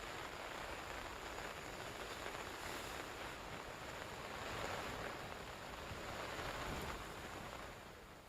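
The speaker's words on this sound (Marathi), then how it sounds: "जालना जिल्ह्यात धामणा नदीला पूर आलाय." The flooded Dhamana river in Jalna district rushes past as a steady, broad roar of churning water, fairly faint and distant, with no voices over it.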